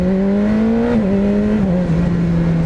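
A BMW S1000RR motorcycle engine pulls hard under acceleration, its steady high-pitched howl dropping abruptly in pitch at each of three quick quickshifter upshifts. It is loud and close, with no talking.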